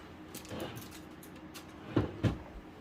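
A drawer being opened, a soft sliding rumble followed by two distinct wooden clunks near the end, in a quiet room.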